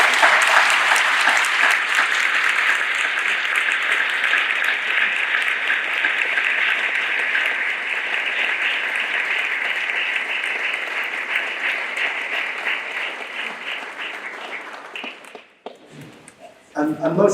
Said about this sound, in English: Let's give Margaret a big round of applause.